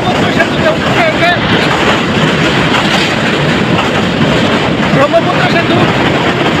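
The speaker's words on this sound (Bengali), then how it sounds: "ট্রেনটি এখন নামনগর রেল সেতু অতিক্রম করে যাবে" A local train on the Bhairab–Narsingdi line rolls onto the Brahmaputra rail bridge, a loud continuous rumble and rattle with faint clickety-clack and wind buffeting the microphone, heard close from on board.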